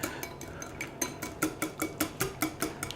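A utensil whisks separated egg yolks in a bowl, giving quick, regular clinks and scrapes against the side, fairly quiet and close, with no talking.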